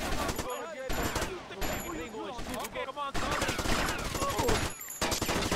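Rapid Uzi fire in GTA Vice City, dense bursts of automatic gunshots that run almost continuously with brief pauses, loud and close, mixed with game noise and a voice talking over it.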